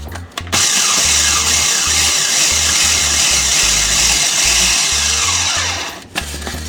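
A food processor pulses graham-style crackers with light brown sugar in bursts of loud whirring, with short stops between pulses and one brief pause near the end.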